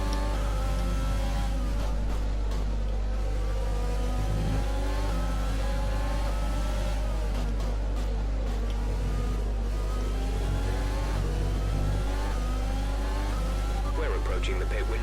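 An F1 car's engine from the racing video game F1 2020, running in a race at Austin with a failing engine: a steady, loud mechanical drone with shifting harmonic whine throughout, under talking.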